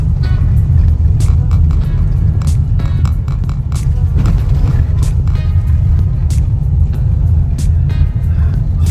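A car crossing the aging San Juan Eco Bridge, its body vibrating as it drives, heard as a loud, continuous low rumble and throb from inside the vehicle with no talk.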